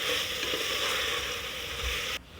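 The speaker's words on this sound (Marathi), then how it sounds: "बटाटा फ्लावर छान परतवून झालं आहे परत मिनिटभर परतवून घेते" Steady loud sizzling of potato and cauliflower frying in a pan, continuous and close, cutting off abruptly near the end.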